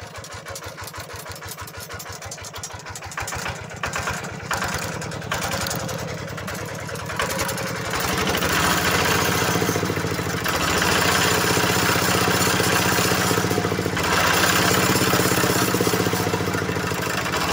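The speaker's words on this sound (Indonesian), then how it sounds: "wah ya halus mesin ini kok" Diesel engine idling steadily and smoothly up close, a loud continuous rumble with even low pulsing that grows slightly fuller partway through and holds without talk.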